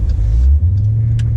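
Car engine rumbling low and steady as it accelerates on a highway at rush hour, heard from inside the cabin, a brief surge of deep motor noise with no talking.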